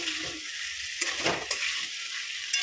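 Water poured into a pan of sautéed potatoes and pointed gourd sets off a hissing sizzle that surges briefly, then settles into a steady, moderate fizz.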